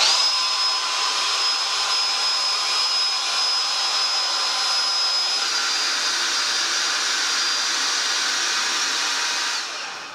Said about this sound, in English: you disengage the fan system by holding the red button for about 5 seconds or until you hear the fan reverse, and it's going to suck all of the air out